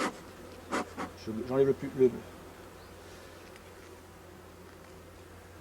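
Honeybees buzz faintly around hives during an end-of-season cleaning visit, a low steady hum under a man's brief spoken words and a few scraping handling noises, then the quiet drone continues alone.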